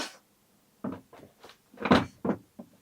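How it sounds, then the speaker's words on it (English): A door is worked as someone walks through it, giving a series of short knocks and clunks, with one louder bang near the middle and quieter taps around it. The sounds are close, with no talk. "Walking through the door."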